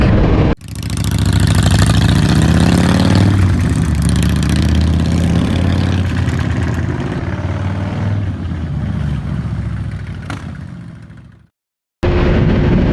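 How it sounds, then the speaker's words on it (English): 2024 Kawasaki Z900 motorcycle engine running on the road, a loud continuous mid-pitched drone with shifting tone that rises, settles and then cuts out abruptly near the end before a faint return. "So here we are, we're out on the 2024 Kawasaki Z900."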